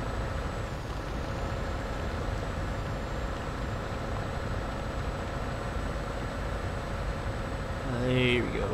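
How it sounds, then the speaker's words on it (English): A Scania S truck in Euro Truck Simulator 2 rumbles with a steady, loud engine drone throughout, ending in a short burst of air brake hiss. "Trucks don't actually sound too bad."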